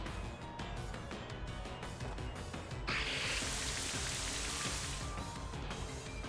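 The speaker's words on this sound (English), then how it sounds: "Brother has Rain Dance." Rain from the Rain Dance move in a Pokémon video game battle: a broad, steady hiss of falling rain swells in partway through and holds, layered over busy, continuous game music.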